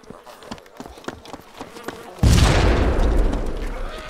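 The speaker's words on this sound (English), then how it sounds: "he throws a frag grenade into the firehouse" A frag grenade goes off inside a firehouse in the video game DayZ Mod. Soft scuffing footsteps come first, then a single loud, deep blast with a long rumbling decay.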